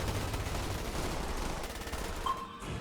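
Dense, continuous gunfire fills a battle in the video game Starship Troopers: Terran Command, a steady rattle of overlapping shots with no breaks, loud and close throughout.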